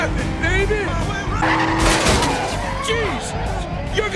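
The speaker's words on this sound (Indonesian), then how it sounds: "Carter sangat senang melaju mobil impiannya dan balapan dengan Edward" A Shelby 350 race car skids with wavering, high-pitched tire squeal over a continuous engine roar, close and loud, while people talk over it.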